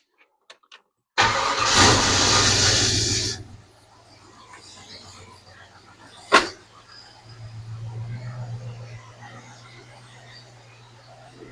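A 1967 Ford Falcon engine fitted with a new distributor cranks for about two seconds, then catches and settles into a low, steady idle, with a sharp click partway through and the idle swelling slightly near the end.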